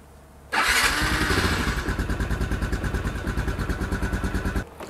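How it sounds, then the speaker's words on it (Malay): A Yamaha LC135 motorcycle running on a DIY lithium battery fires up after a quiet moment, then settles into a steady, loud, close idle with a rapid even thump before cutting off at the end. "Saya akan onkan switch dan saya akan start motor ni"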